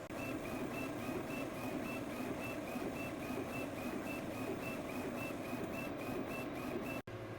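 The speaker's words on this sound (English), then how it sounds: "make sure you're printing a CMYK colour flag before you start printing to get all them colours moving in the printer" A print-shop printer runs a CMYK colour flag, a continuous mechanical drone with a regular, rapid shuttling rhythm that goes on without pause, with no speech over it.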